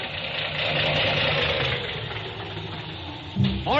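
Car engine misfiring in an old-time radio drama, a rough, uneven mid-range rumble that runs steadily and then ends in a brief louder burst, fairly close.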